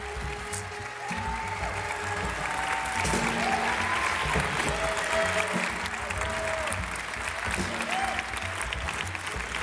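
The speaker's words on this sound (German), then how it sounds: "Nochmal großen Applaus, Leute." Applause fills the hall at the German Jazz Prize ceremony, sustained dense clapping from a large audience layered over music with a low pulsing bass and a repeating tonal melody.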